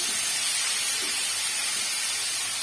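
Semolina and salted ingredients sizzling in a hot pan while cooking upma, a continuous loud, even frying hiss with no talk over it.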